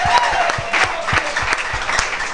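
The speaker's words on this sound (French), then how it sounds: "Applaudissez les Seigneur." A church congregation at a Thursday worship service claps in a brisk, rhythmic beat, with regular sharp claps under a wash of crowd noise.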